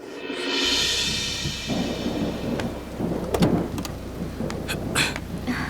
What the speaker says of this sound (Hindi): क्या बारिश हो रही है